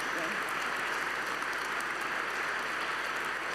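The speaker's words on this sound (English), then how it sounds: "please, everybody, give a round of applause for Jolly Bar" Steady, dense clapping from a large audience at an awards ceremony, close and continuous throughout, with faint voices mixed in.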